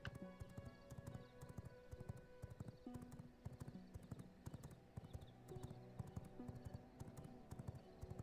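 Horse hooves clip-clop at a gallop in the video game Vampire Rising, a steady rapid drumming of hoofbeats with an occasional whinny over faint game ambience.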